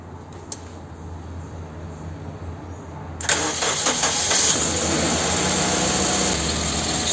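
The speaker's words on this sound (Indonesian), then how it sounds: "Kita coba starter." A Suzuki Aerio with a newly fitted NS60L 45Ah battery sits quietly until its starter cranks briefly and the engine catches, settling into a loud, steady idle with no talk over it.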